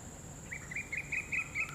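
Evening birds give a run of short, bright chirps repeated at an even pace, about six calls in quick succession, moderately faint over a quiet outdoor background.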